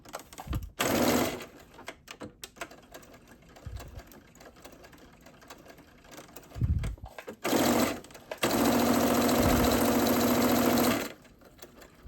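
Sewing machine stitching a fabric wristband for a jumpsuit sleeve, running in several bursts: a short run early, a brief spurt near the middle, then a long steady whir to the end, close and loud, with quiet handling between runs.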